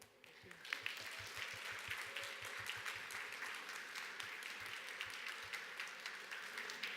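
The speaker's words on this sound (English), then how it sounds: "please welcome him with a warm round of applause." Conference audience applause welcoming a filmmaker to the stage, a broad wash of clapping from a large hall heard somewhat distant and soft, with low thumps underneath.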